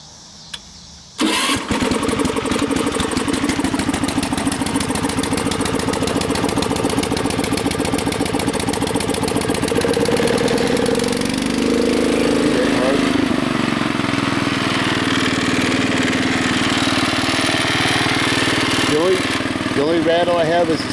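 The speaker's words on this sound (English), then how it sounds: "then press the button, it should fire right up, and then I got to take the choke off" A Bolens Husky 600 garden tractor engine cranks and fires up after a brief quiet start, then runs steadily at a loud, close idle for the rest of the stretch, with someone talking over it and the pitch shifting slightly as the choke is adjusted.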